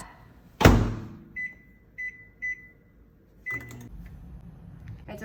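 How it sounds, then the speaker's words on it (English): A microwave oven running with apples and lemon juice in a bowl: a loud door clunk, then a series of short electronic beeps on the keypad, followed by the steady low hum of the oven running. "Microwave this for 3 minutes."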